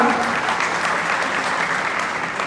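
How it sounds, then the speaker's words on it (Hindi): Loud, dense applause from an audience cheering a team at a Brahmin community talent award ceremony, continuous clapping throughout. "एक बार पूरी टीम के लिए जोरदार तालियां"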